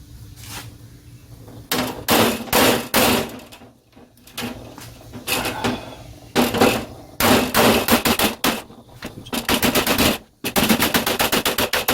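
Sheet metal for a 1977 Chevy C10 pickup rocker panel being bent with clamps, with rapid bursts of ratcheting, rattling metallic clatter in loud close runs separated by brief pauses.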